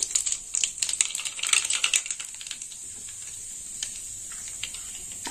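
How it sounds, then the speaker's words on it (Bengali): Black cumin (nigella) seeds temper in hot oil for a pointed gourd and mustard curry, starting as a sharp, crackly patter of small pops for about two seconds and then fading to a faint steady hiss, with no talking. "ফোড়ন দিয়ে দেবো। তো ফোড়নে নিয়েছি কালো জিরে"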